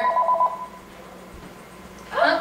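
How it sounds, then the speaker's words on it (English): A telephone rings briefly in a kitchen during a gluten-free chocolate cake baking session, a short electronic trill at the start and again at the end, moderately loud with quiet room tone between. "seems we have a phone call, and our cameraman will grab that"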